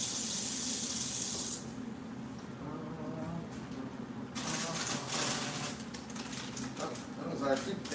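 Water pours into a cooking pot of frozen peas and carrots in a home kitchen, a steady splashing stream that briefly eases and then surges again, with a voice talking faintly beneath it.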